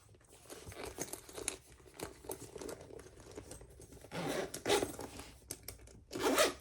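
Zipper on a crossbody bag pocket, pulled open and shut in a few quick, scratchy strokes with soft fabric crinkling and rubbing between them, close and fairly loud, with the last pull the strongest.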